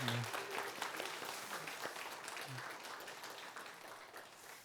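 A church congregation at a Sunday service applauds steadily with continuous clapping, sustained for several seconds, with a brief voice near the start.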